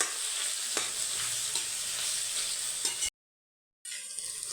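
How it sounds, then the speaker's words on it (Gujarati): Bottle gourd halwa roasts in ghee in a village-style kitchen, a steady close sizzle and hiss with occasional stirring scrapes, briefly cutting out before resuming. "હવે ઘીમાં થોડીક વાર શેકવા દઈએ અને દૂધીની ગ્રેવીને 1/2 કલાક જેવું શેકવા દેવું પડે."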